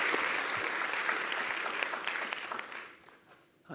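An audience applauds after a talk on cutting greenhouse gas emissions in California, a dense steady clapping that holds for a few seconds and then thins out and fades.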